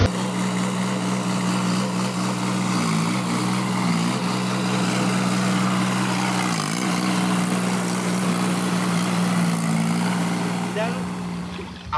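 A tractor engine runs steadily in a farm field where paddy is being planted, a continuous loud drone with a strong low hum that holds throughout, sounding close and uninterrupted.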